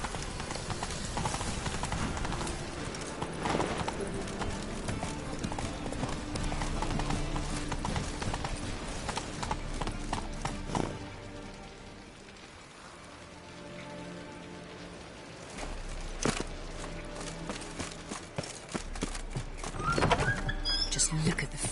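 A horse gallops in The Witcher 3: Wild Hunt, its rhythmic hoofbeats clip-clopping continuously with a rain-like patter and game sounds around them, easing briefly in the middle before resuming.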